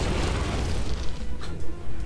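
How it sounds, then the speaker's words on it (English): In Heroes of the Storm, a fort gets destroyed with a deep, booming game explosion, a rumbling blast followed by a few softer thumps and crackles trailing off. "Fort destroyed."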